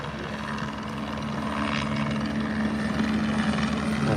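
A police helicopter flies overhead, its rotor and engine giving a steady, loud droning whir that swells slightly as it passes.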